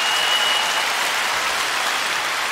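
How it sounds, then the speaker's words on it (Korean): Dense, steady applause from a concert audience at a special Korean pop music show, a full hall clapping continuously with no voices on top. "박수 한번 보내주세요."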